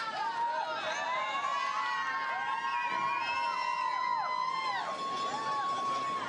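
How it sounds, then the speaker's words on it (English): Children cheer and shout at a women's World Cup monobob race in Lake Placid, a lively crowd din with high wavering whoops and whistle-like cries running steadily throughout. "Kids are having a good time cheering."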